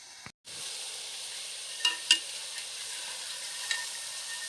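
Sukrunde, a sweet made as a temple offering, frying in hot oil: a steady low sizzle throughout, with a brief clunk near the start and a couple of soft stirring knocks, fairly quiet and with no talking.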